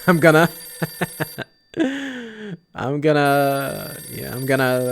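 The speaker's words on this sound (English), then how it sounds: "It's my phone again." A telephone rings in a video game, a repeating electronic ringtone with bright, steady tones that starts and stops in short bursts. It is loud and close, with a voice talking around it.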